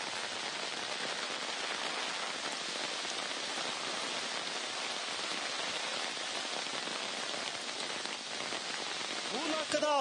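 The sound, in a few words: heavy rain falling on a road in Chikkamagaluru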